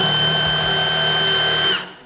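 A Milwaukee M18 FUEL 1/2-inch 339 Nm cordless impact wrench in normal mode loosens a bolt, giving a loud, close, steady high-speed whine with a hammering buzz under it that winds down sharply near the end.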